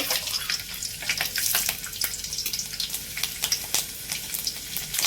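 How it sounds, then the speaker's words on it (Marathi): Cumin, onion and garlic fry in hot oil with a loud, continuous crackling sizzle, dense spitting pops throughout, heard up close without talk. "तर इथं तेल तापायला ठेवलंय. तर जिरं टाकायचं, कांदा लसूण"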